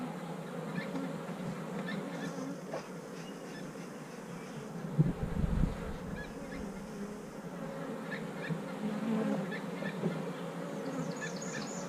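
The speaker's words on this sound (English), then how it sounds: "See the testiness of these bees?" Steady, dense buzzing of honeybees close by, swelling and fading slightly, with a brief low thump partway through.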